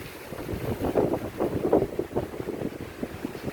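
Gusty wind buffets the microphone outdoors in steady low rumbling surges, building and easing over a few seconds with no voices present.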